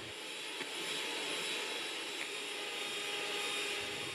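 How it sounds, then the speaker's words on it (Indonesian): An electric mixer whisks cold non-dairy whipping cream at low speed for tiramisu, a steady high whirring drone that holds evenly throughout with no talk. "Kocok menggunakan mixer dengan kecepatan rendah hingga mengental."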